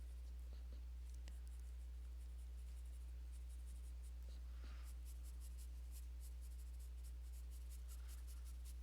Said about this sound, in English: Trying really hard not to put too much pressure on the pencil.